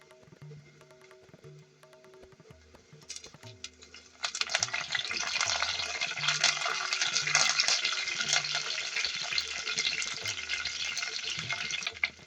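Dry chili and curry leaves hitting hot oil for a Durban sheephead curry, quiet at first, then a loud, steady crackling sizzle erupts and carries on under faint background sounds.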